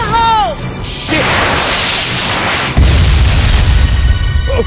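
A grenade blast in the video game Binary Domain erupts as a loud, booming explosion with a rushing whoosh and rumbling debris that sustains for several seconds, following a brief shouted voice.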